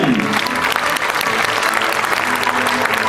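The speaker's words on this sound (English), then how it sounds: "These children deserve a bigger round of applause, don't you think so?" An audience applauds children after their church play about Barabbas: dense, sustained clapping from a large crowd, loud and close, filling the whole stretch without a break.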